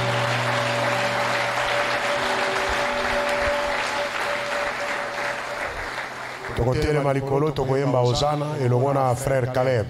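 A church congregation at an anniversary service applauds in a steady, dense wash of clapping and cheering for several seconds, then a singing voice comes in over the fading crowd.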